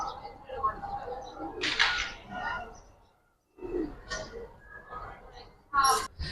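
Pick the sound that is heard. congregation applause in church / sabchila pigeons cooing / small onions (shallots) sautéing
sabchila pigeons cooing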